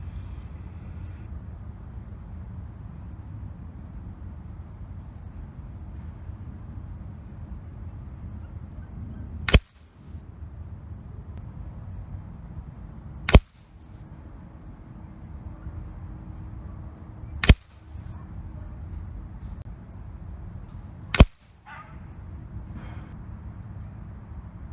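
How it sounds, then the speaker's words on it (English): Four sharp, loud shots spaced a few seconds apart from a Hatsan Dominator 200S .22 air rifle firing pellets in 25-yard accuracy testing, each crack standing out over steady low outdoor background noise. "these pellets that I'm shooting are right out of the tin"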